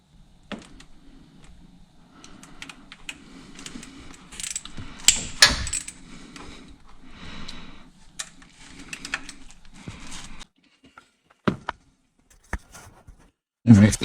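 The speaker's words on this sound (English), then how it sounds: "now we are taking these bolts out of the solenoid pack" A ratchet clicks in repeated bursts while bolts are backed out of the solenoid pack on a 62TE transmission, close and clear, with brief mechanical clatter and a few sharp knocks near the end.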